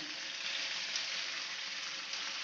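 Tomatoes for thakkali thokku fry in a pan with a steady, even sizzle, close and moderately quiet, with no pause throughout.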